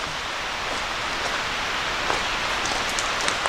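Waterfall in Shenandoah National Park at Overall Run Falls, heard as a steady, broad rushing hiss of falling water that stays constant throughout, with no talk over it.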